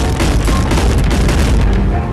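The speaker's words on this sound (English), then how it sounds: "spam your RPGs, shoot your revolvers, and grenade launchers" RPG rocket explosions in the multiplayer video game Animal Company, heard as a loud, dense rumble of booms close up for about two seconds with no pause.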